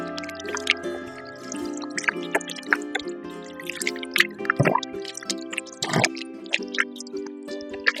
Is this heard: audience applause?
no